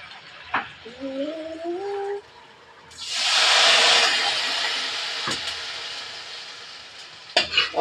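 Rice fried in a pan for a home breakfast fried rice: a loud burst of sizzling hiss hits the hot pan, then slowly fades to a softer sizzle with a few clatters, after a brief squeaky tone near the start.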